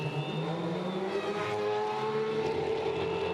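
Formula 3 race cars in qualifying at the 2023 Macau Grand Prix pass and rev loudly with high whining engine tones that rise and fall, overlapping as several cars go by one after another without talk.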